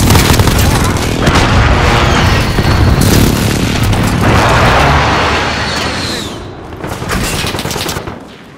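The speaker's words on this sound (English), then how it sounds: "Allied precision airstrike." Precision airstrike explosions in Call of Duty Modern Warfare multiplayer, a dense, loud barrage of booms and crackling gunfire rolling continuously before easing off, with a brief burst near the end.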